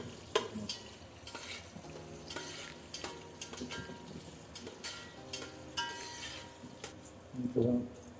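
Sliced onions frying in a pan for country chicken biryani, a quiet sizzle under irregular scraping and clinking of a spoon against the metal, the strokes coming in uneven bursts.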